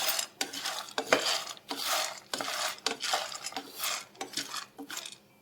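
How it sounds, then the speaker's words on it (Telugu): Dry red chillies and curry leaves fry in a pan with a steady crackling sizzle, broken by repeated scraping and stirring strokes of a utensil against the metal, close and moderately loud with no voices. "ఎండు మిరపకాయలు, ఈ కరివేపాకు కూడా వేగుతాయండి"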